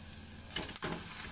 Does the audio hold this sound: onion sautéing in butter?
yes